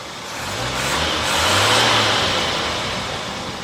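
The 258 six-cylinder engine of a Jeep CJ with a Weber carburetor runs steadily close by, its broad mechanical roar swelling slightly mid-way, then easing, with no talking.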